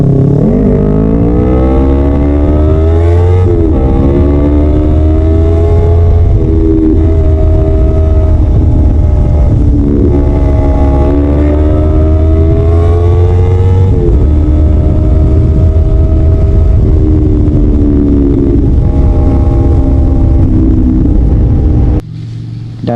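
A Kawasaki Ninja 250 FI motorcycle engine runs loud and close, rising and falling through repeated revs over a steady idle for about twenty seconds.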